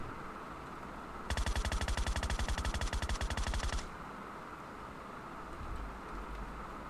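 Rapid burst of gunfire from PUBG, fast evenly spaced shots running about two and a half seconds, loud and close, over a steady background hum with no talk.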